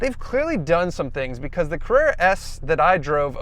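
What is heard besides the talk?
None of the usual background noises is heard.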